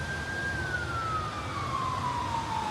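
A police siren in Dubai wails steadily as one long tone that slowly slides downward, heard at a distance over a constant hum of city traffic.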